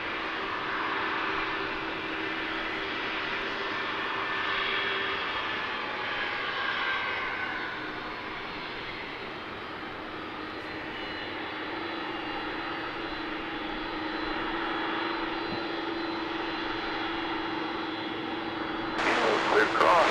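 A jet airliner rolls and climbs away on takeoff at DFW International Airport, a steady broad engine roar that swells and eases over about twenty seconds, with a voice talking over it and a sudden loud rush near the end.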